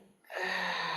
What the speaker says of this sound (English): Inhale in